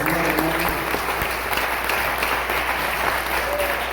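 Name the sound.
church congregation applauding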